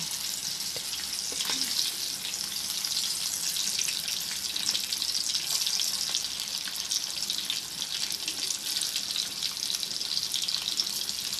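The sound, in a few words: egg pieces frying in hot oil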